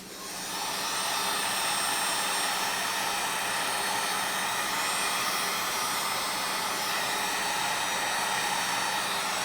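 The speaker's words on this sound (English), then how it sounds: "Get the heat gun." A heat gun blows hot air onto heat shrink on 12-volt relay wiring, a loud, steady, close-up rushing roar that starts abruptly and holds unbroken to the end.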